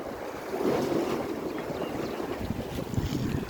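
Steady wind buffeting the microphone over a low wash of sea and surf along the shore at Jizan, Saudi Arabia, with no voices.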